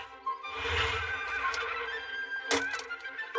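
A horse neighs loudly and close at hand in an anime farm scene, a drawn-out whinny with a second sharp burst near the end, on its own with no talk.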